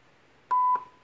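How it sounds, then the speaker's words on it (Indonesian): A Bluetooth MP3 player amplifier module gives two short, clear electronic beeps in quick succession at a steady pitch, then falls quiet against a faint background hiss. "Dia ada bunyi tut."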